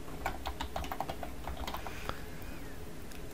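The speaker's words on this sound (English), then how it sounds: "we're going to type in temperature." Rapid computer keyboard typing while entering axis titles into a Google Sheets chart, a quick run of close, crisp key clicks in uneven bursts with a short pause before a few final taps.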